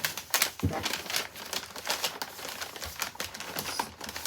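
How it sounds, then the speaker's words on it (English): Paper is wrapped around shoes to pack them for shipping, giving quick bursts of crinkling and rustling with a few sharp taps. The handling is close and irregular, with no talking. "If I wrap each shoe in this really nice and tight, we'll see if it'll work."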